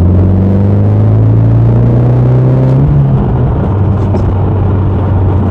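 Steady engine drone inside a Saab 9-5 Aero rated at 230 brake horsepower, heard from the cabin while driving, with a low rising hum and road rumble continuing throughout.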